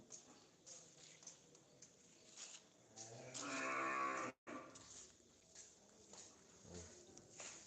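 Agitated cattle, stirred up by a newly arrived cow, low and bellow restlessly at close range, one long loud moo standing out among noisier calls and shuffling.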